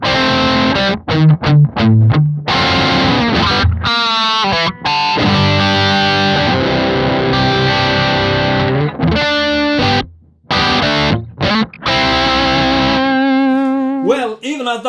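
A 2006 Gibson Les Paul Standard with its volume knob turned down low, played through a high-gain profiled Marshall amp. Continuous distorted chords and riffs ring out loudly with short pauses between phrases, and no one speaks over them.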